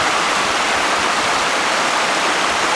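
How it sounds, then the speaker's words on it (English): Rapids on Rocky Creek along the Current River section of the Ozark Trail give a loud, steady broadband rush of churning water with no pauses and no voices. "these rapids here that you see are on Rocky Creek"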